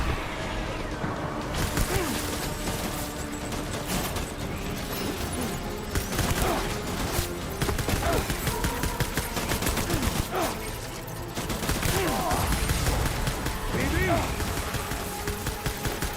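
Sustained rapid gunfire and bursts in the video game Death Stranding on PC, loud and continuous with crashes and booms layered throughout, with someone talking over the shooting.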